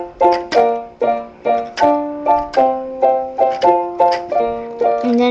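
Piano playing a pop song, repeated struck chords with a bouncy rhythm, each attack decaying before the next, clear and close with no voices.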